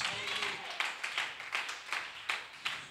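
Church congregation clapping in a rhythmic beat, about two claps per second, soft and somewhat distant, with voices of people mixed in throughout.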